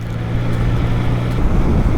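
A Triumph Trident motorcycle cruises in sixth gear at about 50 mph and 4,000 RPM, making a steady, even engine drone mixed with wind and road noise.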